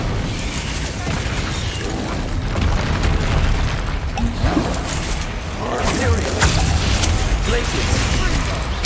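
The Incendio fire spell is cast in the Hogwarts Legacy video game, with dense booming and bursting effects rolling on continuously under an overlapping voice.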